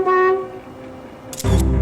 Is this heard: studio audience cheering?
no